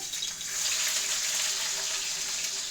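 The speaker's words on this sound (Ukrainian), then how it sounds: "Там трошки олію, щоб цибулька прожарилася" Chopped onion sizzles in oil in a frying pan, a steady dense hiss that stays loud and even throughout, with no talking.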